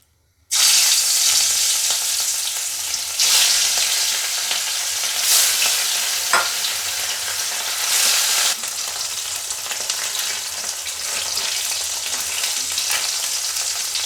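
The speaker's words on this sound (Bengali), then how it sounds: "তেলটা আমার খুব সুন্দরভাবে গরম হয়ে গেছে, এখন আমি মাছগুলো ভেজে নেব।" Pieces of katla fish sizzle and crackle steadily in hot oil, a loud, continuous frying hiss with brief surges, running without any talk.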